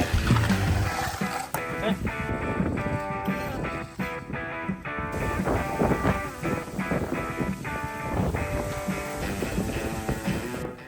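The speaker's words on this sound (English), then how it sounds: "Man, the wind has got to be blowing 30 miles an hour." Strong wind of about 30 miles an hour gusts across an outdoor concrete job site in Tucson, buffeting the microphone with loud, uneven rumbling bursts and no pauses.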